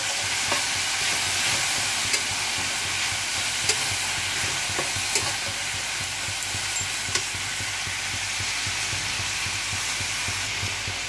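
Sliced flat beans and potatoes fry in a hot pan with salt, giving a steady close sizzle with light crackles and occasional stirring scrapes, no voices.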